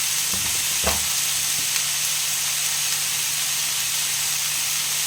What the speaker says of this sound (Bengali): এটাকে আমি ভালোভাবে নাড়াচাড়া করে ভেজে নেব